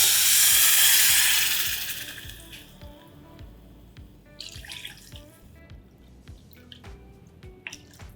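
Water is poured into a cooking pot for fenugreek leaf khichdi, a loud splashing pour at the start that fades into scattered drips and small clinks.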